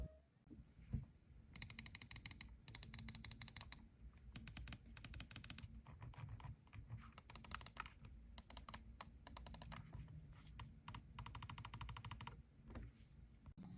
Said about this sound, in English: Here's the sound test of all the buttons.